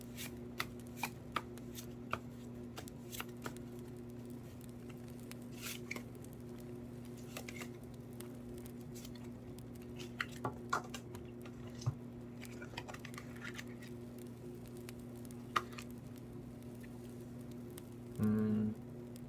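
Tarot cards being shuffled and drawn in a quiet room: soft intermittent card flicks and taps spaced irregularly over a low steady hum, ending in a brief louder shuffle burst, with no speech.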